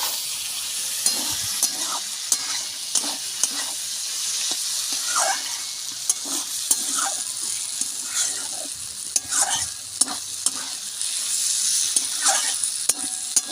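Snake gourd curry stir-frying dry in a pan, with a steady bright sizzle and repeated scrapes and clicks of a spatula stirring through it, close and continuous with no talk.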